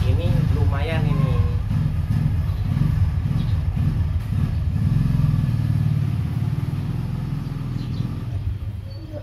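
A passing motorcycle engine rumbles steadily close by outdoors, its low drone filling the scene while a voice talks over it.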